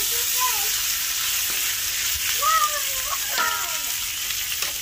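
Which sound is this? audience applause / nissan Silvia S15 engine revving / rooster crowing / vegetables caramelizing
vegetables caramelizing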